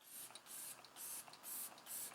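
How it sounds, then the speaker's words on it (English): Makeup setting spray mists from a pump bottle in five quick, evenly spaced hissing bursts, close and crisp with short gaps between them. "I am going to spray it down"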